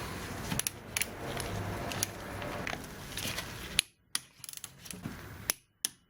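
A torque wrench set to 25, fitted with a 12 mm socket and a reducer adapter, tightens a nut on a Honda SH300 scooter. Steady ratcheting comes first, then a few sharp, separate clicks close by with brief silences between them.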